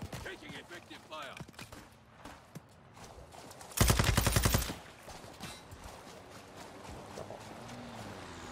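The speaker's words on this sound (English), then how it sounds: "Taking effective fire!" Gunfire in a video game: a loud, sustained burst of automatic fire lasting about a second stands out midway, with scattered fainter shots and game noise around it and a voice talking at points.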